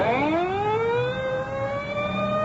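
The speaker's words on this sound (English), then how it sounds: "The ambulance is pulling away." An ambulance siren wails as the vehicle pulls away, its long rising tone sounding loud and continuous over low traffic rumble.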